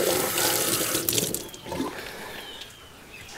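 Tap water runs over a crappie fillet to rinse dirt off, a steady splashing faucet stream that is loud at first and eases off slightly toward the end, with no voices.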